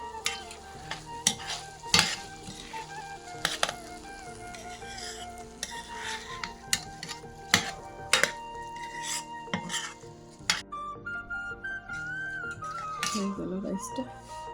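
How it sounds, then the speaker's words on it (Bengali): Rice being fried with green chillies in a pot for chicken pulao, sharp spoon scrapes and metallic knocks over a quiet, low sizzle, with a voice talking faintly in the background. "এখন দিয়ে দিচ্ছি আমি চাল, ভাজতে থাকলাম যতক্ষণ পর্যন্ত একটু আঠা আঠা না হয়।"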